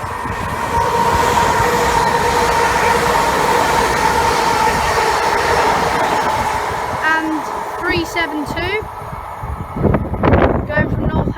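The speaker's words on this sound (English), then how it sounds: "we have a Class 350, I believe from Northampton to London Euston." A Class 350 electric train on the West Coast Main Line at Cheddington, running from Northampton to London Euston, rumbles steadily past close by, with wheel clatter and a brief squeal as it fades near the end.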